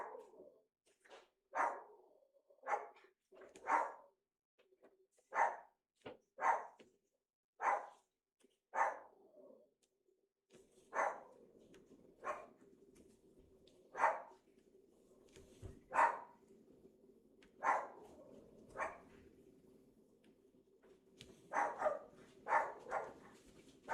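A dog named Mr. Pants barks in repeated single sharp woofs and short bursts at irregular intervals, fairly distant and quiet against an otherwise silent room.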